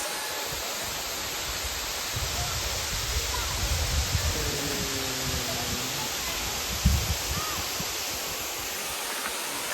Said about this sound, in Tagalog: Nadungog na mo diri ang tinyog sa falls.